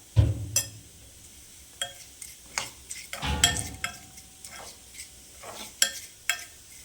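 Small onions go into hot oil in a pan and fry with a quiet sizzle, broken by a few stirring scrapes and light clinks of the utensil against the pan.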